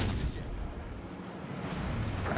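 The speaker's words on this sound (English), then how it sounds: "it's a pretty powerful battleship shooting at us" Battleship gunfire in the video game Yodo roars as a loud, continuous, rumbling barrage of booming blasts that fills the whole moment.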